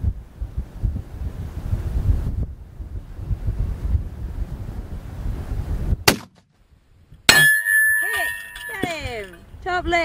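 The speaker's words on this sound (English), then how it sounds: "That's a nice solid ding." A bullet strikes a steel target plate 2,500 meters away, giving one sharp, clear metallic ding that rings out after a gusty stretch of wind and surf-like noise.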